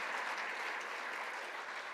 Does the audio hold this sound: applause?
yes